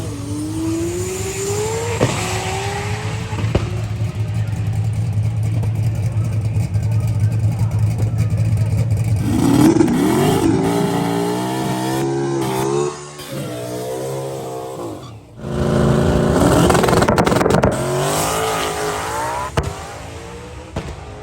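A drag race car at a short-track reunion race revs and then launches, a loud, sustained engine roar with rising pitch sweeps, heard under people talking.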